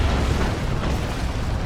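Autocannon fire from a Dawn of War 2 match between Chaos Space Marines and Imperial Guard strikes a tank, heard as a loud, continuous rumbling barrage of booms and bursts with no speech over it.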